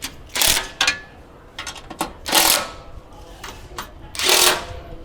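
Bolts on a high-performance N70 Toyota Hilux underbody guard being nipped up with a ratcheting tool, several short bursts of clicking ratchet strokes separated by brief pauses, close and fairly loud.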